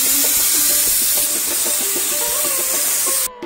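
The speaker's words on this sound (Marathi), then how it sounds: "डाळ अगोदरच कुकरला लावली होती। तर इकडेच्या शिट्ट्या सुद्धा सुरू आहेत बघा" A pressure cooker cooking dal vents a loud, continuous steam hiss with wavering whistle tones riding over it, close by, before cutting off abruptly near the end.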